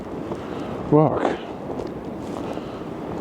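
Strong wind during a snow storm roars as steady, broadband noise buffeting the microphone throughout, with a brief spoken word near the start.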